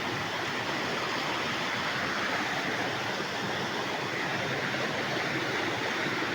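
A clear-water waterfall in a Phetchabun forest pours steadily, a loud, even rushing roar that holds without a break.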